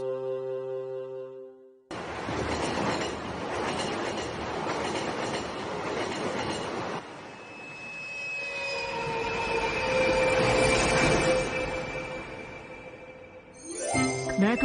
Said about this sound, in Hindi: हमारा घर बना छुक छुक ट्रेन।